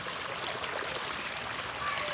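A forest brook runs steadily near a forest kindergarten, its broad continuous rush and trickle filling the whole moment with no talk over it.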